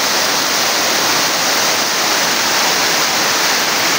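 Bangon Falls pours in a steady, dense roar of rushing water, close and loud, with no break in the continuous wash across the whole moment.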